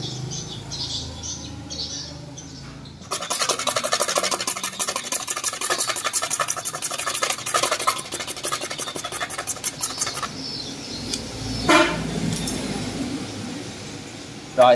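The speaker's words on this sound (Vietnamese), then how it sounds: "Bây giờ Thạch cạo nè." Original motorcycle engine cover being scraped by hand: rapid rasping strokes run continuously for about seven seconds, then fade to a quieter scratch with a few light knocks, close to the microphone.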